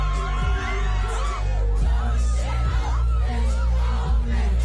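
A nightclub crowd cheers and shouts as the performer appears, their scattered yells and whoops riding over loud, pumping, bass-heavy music.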